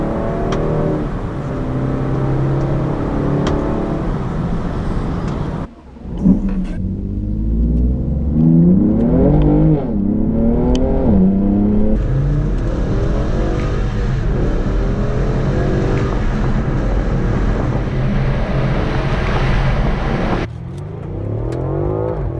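Engine of a 2019 BMW G20 3 Series revving hard through its gears, rising pitch sweeps repeating with quick shift breaks, loud and close, with a brief drop near the start and no talk.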